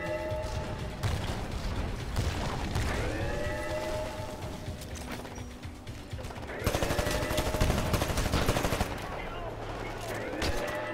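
Rapid gunfire crackles in the video game Titanfall, with a Kraber rifle in use, as dense repeated shots mixed with whooshing game effects swell louder near the end.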